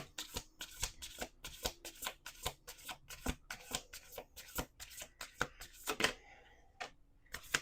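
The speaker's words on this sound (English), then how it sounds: "Okay, last shuffle." A deck of cards is shuffled by hand, a rapid series of sharp riffling bursts in a loose rhythm, close and crisp, ending with a few scattered taps.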